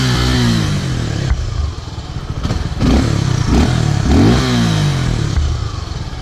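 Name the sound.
Suzuki Gixxer SF 250 motorcycle exhaust note in neutral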